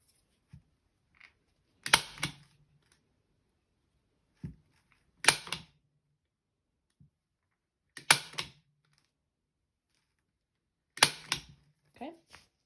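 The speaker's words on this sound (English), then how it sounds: "I do push down a good bit whenever I'm stapling on these to make sure that I actually get the rope pushed down and then staple on top" Staple gun driving staples through rope into a wood slice wreath, four sharp clacks spaced a few seconds apart, each with a brief mechanical rattle, close and fairly quiet with near silence between.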